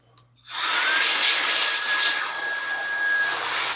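WOLFBOX MF60 rechargeable compressed air duster running on its third, highest speed, rated at 110,000 RPM: after a soft click, a loud, steady, close-up rush of air with a thin high whine holds for about three seconds.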